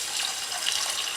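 Water runs steadily from a kitchen tap into a pot, poured in for cooking; a continuous, fairly close splashing hiss lasting about a second, with no voices.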